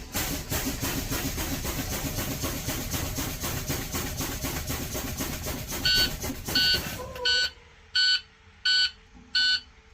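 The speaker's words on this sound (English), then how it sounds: "feather our service brake down until the low pressure warning light and buzzer activate before 55 psi." A school bus low air pressure warning buzzer sounds in a series of loud, evenly spaced electronic beeps, about six pulses over the final few seconds, after a stretch of rumbling engine and air brake noise.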